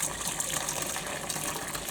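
Hot water drains in a steady gush from a pot of cooked soybeans, splashing continuously at close range for a couple of seconds.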